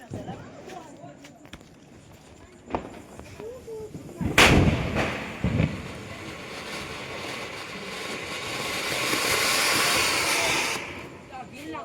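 Diwali firecrackers burst at night, a few sharp booms followed by a long hissing crackle that swells and fades, with people talking and shouting nearby.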